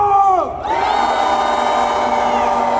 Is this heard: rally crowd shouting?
yes